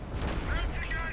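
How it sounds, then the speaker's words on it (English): Heavy tank gun fire and battle noise from the World of Tanks video game, a loud continuous roar of shots and rumble, with someone talking over it. "let's try shooting the Panzer IIIA"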